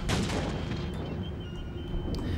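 Artillery fire in Empire: Total War, with deep, continuous cannon rumble and booming blasts dense throughout, a couple of faint sharper cracks near the end.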